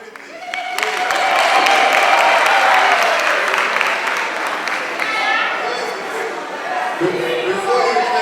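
Meeting audience at a Makhanda High Court gathering with the Minister bursts into sustained clapping, loud and dense for several seconds, with crowd chatter mixed in and continuing under it.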